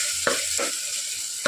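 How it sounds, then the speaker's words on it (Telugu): Tomatoes sizzle in mutton masala in a pan, a steady frying hiss broken by a few scraping strokes of a spoon stirring, loud and close. "ఇప్పుడు టమాటాలు బాగా మెత్తగా మగ్గేంత వరకు కుక్ చేసుకోవాలి."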